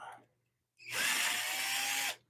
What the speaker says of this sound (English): Let me get these screws out.